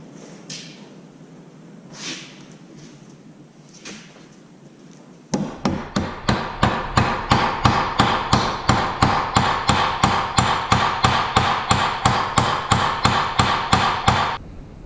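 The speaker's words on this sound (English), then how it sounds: "So I'll brad this down" Hammer blows bradding a steel spur shank into place at the workbench, arriving as a fast, even run of about thirty sharp metallic strikes, loud and close, after a few soft scuffs at the start.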